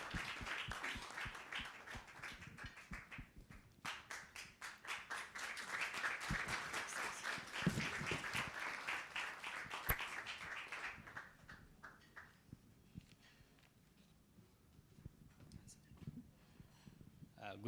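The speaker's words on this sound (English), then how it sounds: "Please, a round of applause." Audience applause at a media launch for science competition winners, dense clapping through most of the span that thins out toward the end, with a voice talking over it.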